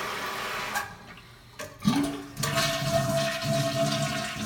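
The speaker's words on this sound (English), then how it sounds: "That's your flush video of the week." A household toilet flushing: a sharp handle clunk, then a rushing gush of water that settles into a steady refilling hiss and trickle, close and loud with no talking.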